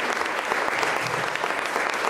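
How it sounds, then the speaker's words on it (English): An audience at the Winthrop close up show gives a standing ovation, steady dense clapping throughout, heard from a short distance. "After leaving an impact on the crowd, Winthrop's first received a standing ovation."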